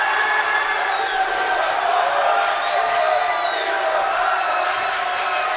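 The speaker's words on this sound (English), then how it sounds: "Loud crowd. Both sides, both sides." Loud crowd cheering in a high school boys basketball gym, a continuous roar of voices, whoops and shouts from both sides of the stands, close and sustained throughout.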